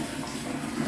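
Water runs steadily from the tap of a cheap water-hauling setup, a continuous close-up gushing flow at moderate volume with no pauses and no voices.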